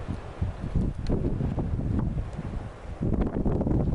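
Wind blowing outdoors in strong gusts that rumble against the microphone, swelling and easing over a few seconds, close and fairly loud, with no speech.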